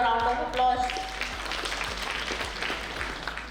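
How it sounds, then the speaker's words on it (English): Audience at a business session giving a round of applause, a diffuse patter of clapping heard at moderate distance, steady and fairly soft throughout. "That calls for a round of applause."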